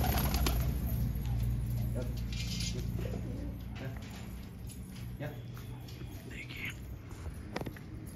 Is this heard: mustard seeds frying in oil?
no